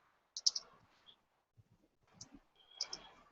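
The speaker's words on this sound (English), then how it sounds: "I'm typing that in too." Computer keyboard typing at an unconference session on archaeogaming, a few light scattered clicks in short bursts, faint and close, with quiet room noise between them.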